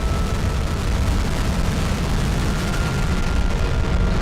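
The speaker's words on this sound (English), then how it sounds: "Ignition sequence start and liftoff of the SpaceX Falcon 9 rocket" A SpaceX Falcon 9 rocket igniting and lifting off, a loud, continuous, crackling roar that fills the whole stretch without letting up.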